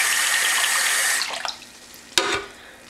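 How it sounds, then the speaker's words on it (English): Murky water from washing makeup brushes dumped out into a sink, a loud continuous rushing pour that tapers into trickles and drips, followed by a sharp knock and a brief splash. "If the water gets too murky, you can always dump it out"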